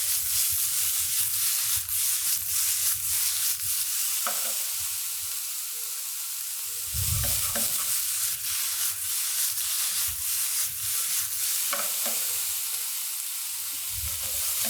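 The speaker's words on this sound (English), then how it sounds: "You want to give it a nice stir fry." Fiddleheads are stir-fried in a hot pan, a constant loud sizzle broken by repeated scraping and stirring strokes of a utensil, close and without speech.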